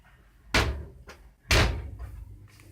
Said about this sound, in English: We're just gonna close our oven door